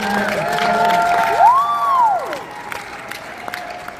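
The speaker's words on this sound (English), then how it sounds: "So give them a round of applause" A crowd claps, cheers and whoops together for about two seconds, with one rising and falling whistle carried over the noise before it dies away into quieter murmur.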